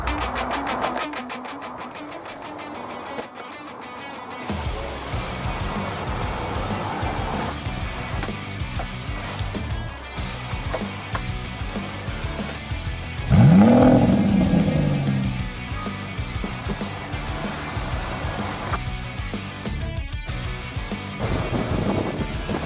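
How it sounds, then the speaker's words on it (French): An electric Citroën Ami microcar driven through Paris streets, with steady road and wind rumble from inside the cabin. A brief swell of passing traffic rises midway, and nobody speaks. "Et voilà, nous sommes au volant de la Citroën Ami"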